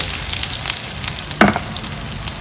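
Sliced onion fries in a pan, giving a continuous close sizzle and crackle with one brief louder scrape or clatter near the middle, no voices over it.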